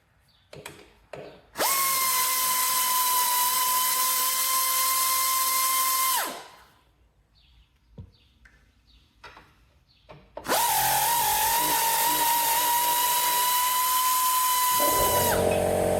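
Power driver backing out 3/8 bolts on a Cub Cadet 1772 diesel tractor's transmission, two long loud whining runs of about four to five seconds each, separated by a quiet pause with small clinks.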